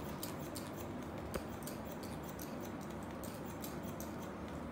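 Small scissors make quick, light snips while cutting layered hair, a faint series of irregular close clicks over quiet room tone.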